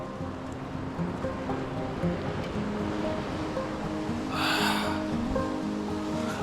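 Ocean waves wash against a small fishing boat under steady low wind rumble, with one louder surge of splashing water breaking near the end.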